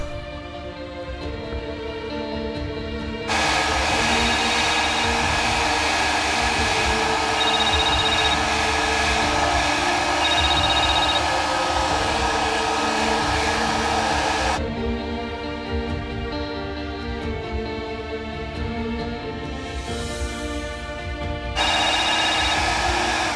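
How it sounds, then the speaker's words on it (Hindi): A hair dryer blows a constant loud whoosh while a telephone rings repeatedly in bursts over it, the ringing switching on and off as the dryer keeps running indoors. "ये फोन टिंग टिंग टिंग टिंग करे जा रहा है। ड्रायर मेरे हाथ में है"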